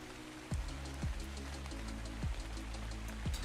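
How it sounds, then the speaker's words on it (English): Rain in the video game Ark patters in a steady, soft wash, with a few deeper droplet-like tones falling repeatedly over a low, constant background. "I'll live with the rain for now."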